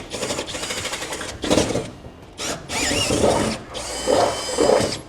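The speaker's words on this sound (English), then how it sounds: "drill our hole out in all 4 locations" A power drill with a 1/2-inch bit whirs in several bursts, boring holes in a 2016 Chevrolet Silverado for an underbed hitch kit, starting and stopping with short pauses, close and fairly loud, pitch shifting as the bit bores.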